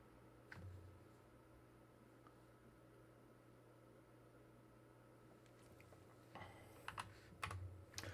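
Soft keystrokes tap on a computer keyboard, faint under low room noise, growing into a quicker cluster of clicks near the end.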